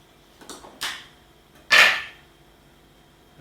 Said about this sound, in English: Just cut up some sausage